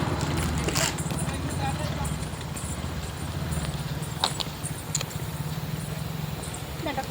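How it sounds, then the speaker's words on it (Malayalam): Horses clip-clop along a small riding path in a steady stream of light hoofbeats. The sound stays faint and fairly distant under a constant outdoor hum, with a few sharper knocks now and then. "അവിടുന്ന് അങ്ങോട്ടുള്ള ചെറിയൊരു വഴിയുണ്ട്, ആ വഴി കൂടിയാണ് കുതിരകൾ പോണത്"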